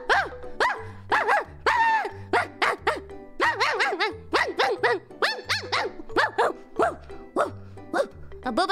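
A voice imitates a dog, barking "woof" over and over in a quick, lively run of yips, loud and close, while soft background music plays underneath.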